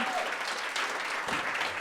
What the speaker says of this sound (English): give her them a round of applause